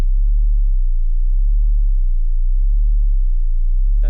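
A plain, unmodulated 808-style bass from Ableton's Operator synth holds one steady deep sine tone for about four seconds, loud and close, ending in a short click.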